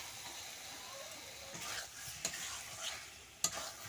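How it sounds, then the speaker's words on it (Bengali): Boiled yam pieces dropped into a sizzling spice mixture for a yam and fish curry: a steady close fry hiss with a few sharp clattering stirs and splashes, no talking. "খাম আলুগুলো দিয়ে দিচ্ছি।"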